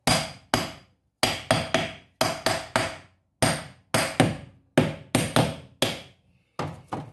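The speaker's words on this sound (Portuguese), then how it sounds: "deixa eu só dar uma batidinha aqui pra ele ficar na posição" A motor part on a Jacto J6200 sprayer is hammered into position: about a dozen sharp, hard taps close by, coming in quick bursts of two or three with short pauses between, and no talk.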